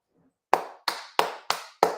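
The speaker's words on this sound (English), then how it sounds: "That's not a golf clap. That's a fight clap." Five sharp, loud hand claps ring out at a steady, deliberate pace after a brief faint sound, each crack close and distinct with a short decay.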